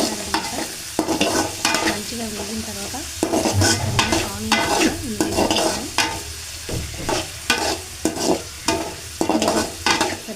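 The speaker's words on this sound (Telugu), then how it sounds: "ఆయిల్ హీట్ తర్వాత ఇది కట్ చేసుకున్న కూరగాయ ముక్కలు అయితే వేసుకోవాలి" Cut vegetable pieces fry in hot oil for fried rice, tossed with repeated rhythmic scrapes and clanks of a spatula over a constant sizzle, close and loud, no voices.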